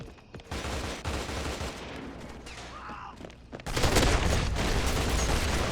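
Gunfire in the video game CrossfireX, bursts of rapid automatic shots crackling loud and close, with a brief lull before a denser, sustained volley fills the end.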